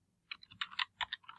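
Quick run of keystrokes on a computer keyboard while entering a web address, about a dozen close, crisp clicks in an uneven burst, alone with no talk.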